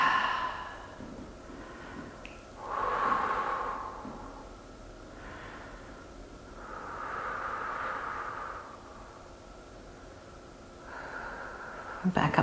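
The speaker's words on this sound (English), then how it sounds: "And breathe here." Slow, audible breaths drawn in and released during a reclined twisting yoga pose, several long soft swells of air spaced a few seconds apart against quiet background.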